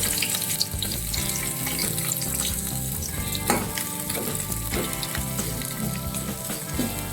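Onions sizzle and crackle in hot oil in a pan for a chicken gravy, a steady loud frying hiss with occasional stirring scrapes and pops.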